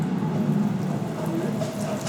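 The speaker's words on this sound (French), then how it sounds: "il pleut" Steady rain hissing across the whole clip, a dense continuous patter with a low rumbling undertone, fairly loud and without pauses.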